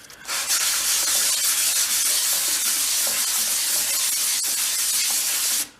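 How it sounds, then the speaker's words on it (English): Steady, wet abrasive rubbing runs continuously for several seconds, a hissing scrape of hand wet-sanding the metal of a vintage Snap-on toolbox. "little wet sanding"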